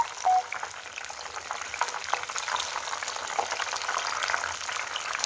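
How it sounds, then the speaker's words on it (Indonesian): Vegetable-stuffed tofu coated in batter deep-frying in hot oil gives a dense, steady crackling sizzle with fine popping bubbles, close and continuous throughout with no talking. "Kemudian goreng tahu isi sayuran sampai matang."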